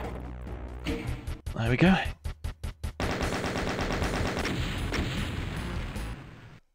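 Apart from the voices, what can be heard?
rocket launcher firing in a Doom-style video game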